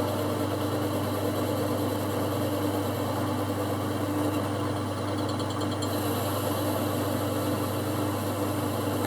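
A metal lathe with an offset tailstock taking a finishing cut, a steady motor hum and whine running continuously and evenly throughout, close, no talking.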